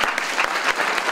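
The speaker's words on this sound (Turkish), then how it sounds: "Öncelikle bir anne babalarımızı güzel bir alkışlayalım." Audience applause at a university dentistry faculty's first graduation ceremony in Bolu: steady, dense clapping from a large crowd, sustained without a break.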